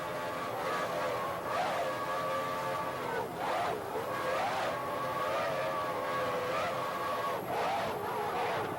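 Offshore powerboats with Mercury 2.5 outboard engines race on open water, a loud steady roar with wavering whine as the boats pass, continuous and close with no pauses.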